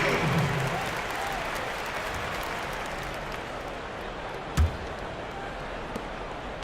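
Crowd noise in an NBA 2K18 basketball arena during a Pelicans vs. Kings game, a steady roar of cheering and applause holding throughout at moderate level, with a sharp thud near the end.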